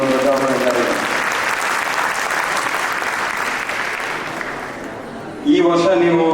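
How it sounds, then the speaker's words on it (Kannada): Dense, sustained audience applause at a Ganesh Chaturthi cultural program, a steady wash of many clapping hands for about five seconds before it thins and a voice starts. "ಹಾಗಿದ್ರೆ ಮತ್ತೊಮ್ಮೆ ಚಪ್ಪಾಳೆ ಬರಲಿ"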